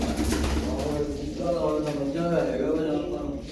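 Pigeons cooing in soft, repeated low warbles close by, mixed in with a person talking over steady background noise.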